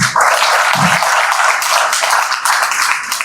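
Audience at an academic talk gives a round of applause to welcome the speaker, steady, dense clapping filling the hall for a few seconds.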